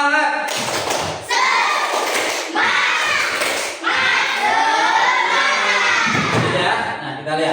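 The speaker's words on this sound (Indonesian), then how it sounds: "Tepuk semangat." A classroom of students performs a rhythmic spirit clap, loud bursts of clapping and thumps in patterned groups mixed with energetic group chanting voices.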